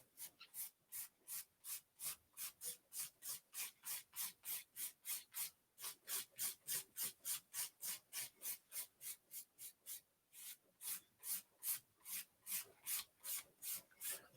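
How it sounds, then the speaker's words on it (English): A nail file rasps back and forth over hard gel on nails, a fast, even run of short, crisp scraping strokes, close and alone, with only a brief pause near the middle. "so that you're not filing away at your natural nail"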